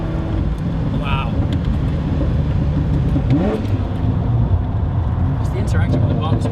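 Ferrari F40 engine droning loudly and continuously from inside the car while driving, a dense, rough roar that hardly varies, with voices talking over it.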